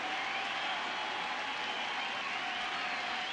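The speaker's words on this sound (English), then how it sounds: "There goes the 2-strike cheer that everybody does at Yankee Stadium when they sense something special's going on." A big Yankee Stadium baseball crowd keeps up a steady roar of cheering and clapping during a two-strike count, heard from a distance as one continuous wash of noise.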